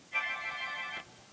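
Mobile phone ringtone playing a short, bright melodic burst of about a second, moderately loud, alone with no talk over it.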